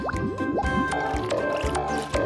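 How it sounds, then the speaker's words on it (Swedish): Cartoon bubbles blown through a net by a cartoon woodpecker, a quick run of wet, gurgly pops and rising bloops in close succession over a busy background score. "Hack-Hack har upptäckt att han kan blåsa bubblor med nätet"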